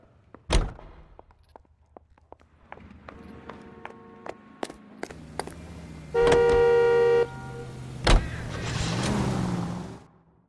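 Car driven through the streets in L.A. Noire, with engine hum under a string of sharp door and click sounds, a sustained horn-like tone midway, and a louder engine surge near the end.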